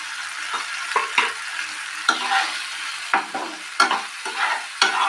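Mustard bhetki fish with turmeric and salt being stirred in a hot pan, a steady low sizzle broken by repeated scraping spatula strokes in an uneven rhythm, close and alone with no talking.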